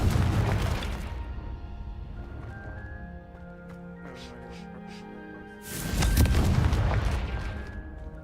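A Confringo explosion spell goes off in a video game, a deep booming blast that fades into a ringing tail before a second loud burst erupts, with a spoken incantation among the game sounds.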